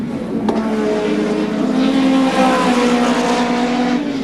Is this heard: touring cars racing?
yes